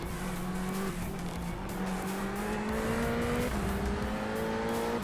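A race car in the iRacing sim game drives steadily at speed, its engine a continuous, rising and falling drone with gear changes and occasional tire squeal, loud and close throughout.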